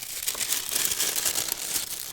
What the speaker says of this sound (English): we've got this like tissue paper over it, which is going to make such a fucking nice noise